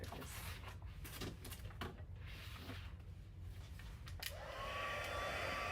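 A heat tool heat-setting a hot chocolate bomb box blows a steady whooshing roar with some clatter early on, then a rising whine near the end, close and continuous.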